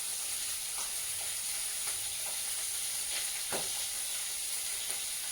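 Bombay duck (loitta) fish frying in a pan, giving a steady, fairly soft sizzle with occasional small pops and crackles and no talking.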